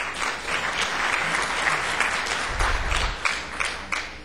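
At a school board meeting, a roomful of people claps for new school leaders, a continuous dense burst of applause with a brief low rumble partway through.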